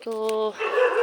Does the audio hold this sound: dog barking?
yes